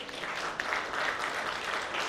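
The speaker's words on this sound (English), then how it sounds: "that deserves a round of applause" Attendees at a procurement leaders summit give a round of applause, a soft, continuous wash of many hands clapping that sounds distant and fairly faint, with no clear voices on top.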